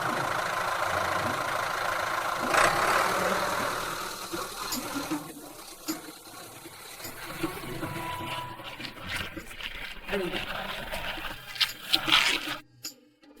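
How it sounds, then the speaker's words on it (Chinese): A tractor engine idles and runs with a rough, steady knocking rumble at moderate distance, its level varying, with occasional clatter and a brief drop at the end. "还带来了耕地神器——拖拉机。 刚才那雷声滚滚，竟是从此物体内发出。"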